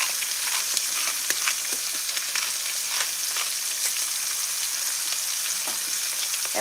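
Thin pork chops pan frying, a continuous dense sizzle with crackling pops and spatters, close and steady, no talking.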